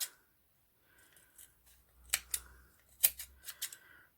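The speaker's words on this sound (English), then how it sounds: "just trim it so you've got a nice clean edge that side" Scissors snipping tulle ribbon for a hair bow, a series of quiet, crisp close cuts and faint rustles spaced irregularly over a few seconds.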